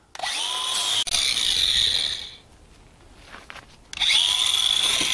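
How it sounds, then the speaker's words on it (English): A palm sander and a grinder work on a custom-built wooden deck, a loud, close, high-pitched whir that cuts out briefly, drops to a quieter lull, then surges back to full power. "he's working with the grinder, I'm working with the palm sander. Let's start sanding."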